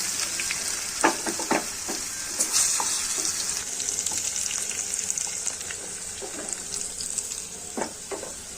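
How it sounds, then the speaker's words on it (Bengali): Potatoes frying in hot oil in a home kitchen, a steady close sizzle with occasional clicks and stirring scrapes throughout, no talking. "এবারে আমি আলুগুলো ভেজে নেব।"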